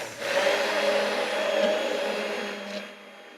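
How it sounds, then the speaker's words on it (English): A blender whirs steadily through an egg-free meringue mixture in a pastry kitchen, a loud continuous motor hum lasting about three seconds before tapering off, with no talk. "And we are going just to blend."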